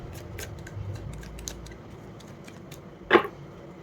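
Tarot cards are shuffled by hand, with faint soft clicks and rustles followed by one brief, louder riffling burst near the end.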